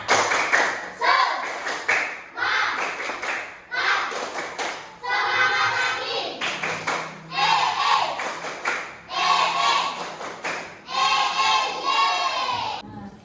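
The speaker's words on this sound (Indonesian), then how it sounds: "kita yel-yel terlebih dahulu ya. Tepuk semangat." An Indonesian classroom performing a 'tepuk semangat' cheer: a group claps in rhythmic patterned bursts with chanted voices, repeated in several phrases separated by short pauses.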